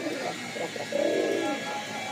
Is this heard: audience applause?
no